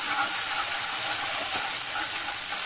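Garlic paste frying in a pan for a malai mutton kabab, giving a loud, even, hissing sizzle that holds steady throughout without any voices.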